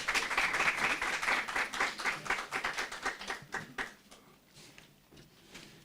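At a public speaking competition, the audience gives a speaker a round of applause, a lively patter of many hands that thins into scattered rhythmic claps and fades away over the last couple of seconds.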